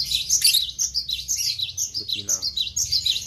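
A captive white-rumped shama (murai batu) from Aceh sings rapid bright whistles and trills, loud and continuous, with a single spoken word and a voice breaking in briefly.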